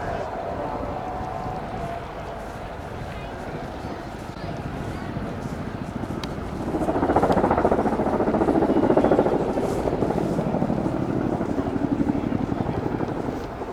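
A tandem-rotor helicopter flies a roller coaster manoeuvre at the Royal International Air Tattoo. Its rotor thrum carries steadily at a distance, then swells louder and fuller partway through as it climbs into the arc.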